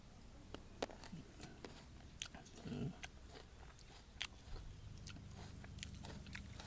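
Close, quiet bites and chewing on fried food cooked with egg, with irregular crunchy clicks over a steady background hum.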